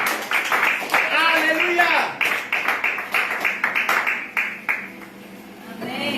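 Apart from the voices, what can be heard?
congregation applauding in church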